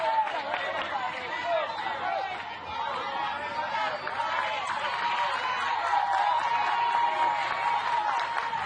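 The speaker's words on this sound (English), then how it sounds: "And the crowd behind her. You can hear them in encouragement." A softball crowd at a college regional game cheers steadily with whoops, claps and chatter. The noise is fairly loud, sustained and layered, with voices mixed throughout.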